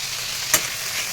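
Pointed gourd peel fries in a pan, giving a steady soft sizzle with one brief louder crackle partway through and no talk.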